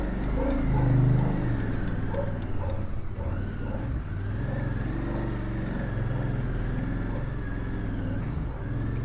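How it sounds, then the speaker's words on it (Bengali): A Royal Enfield GT 650 motorcycle on a road trip from Delhi toward Rishikesh rides along with a steady, unbroken engine and road drone for several seconds, dense and close. "বাইক ঢুকে যাবে তো?"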